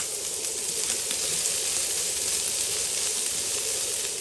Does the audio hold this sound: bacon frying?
yes